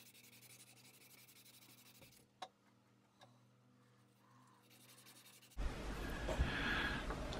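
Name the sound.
hand sanding with cloth-backed abrasive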